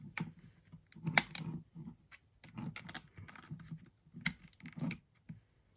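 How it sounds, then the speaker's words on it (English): SD card being handled and pushed into a Nintendo DSi handheld, a series of small plastic clicks and taps in short clusters, close and quiet. "So let me put the SD card in here."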